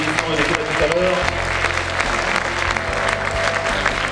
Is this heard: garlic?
no